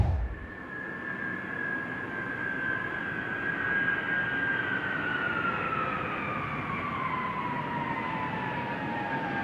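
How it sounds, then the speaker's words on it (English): A retired military cargo airplane on its final flight to the Boneyard drones steadily overhead, a loud continuous engine roar with a slowly falling whine running throughout. "We're bringing this airplane here. It's its last flight."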